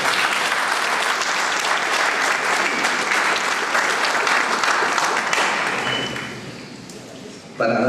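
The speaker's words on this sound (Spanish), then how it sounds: "quisiera que demos un fuerte aplauso al doctor Fidel Rojas Vargas" Audience at an evening lecture on public administration crimes giving Dr. Fidel Rojas Vargas strong, loud applause that holds steady, then fades out near the end before a sudden thump.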